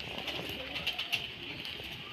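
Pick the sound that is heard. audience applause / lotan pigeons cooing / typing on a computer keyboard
lotan pigeons cooing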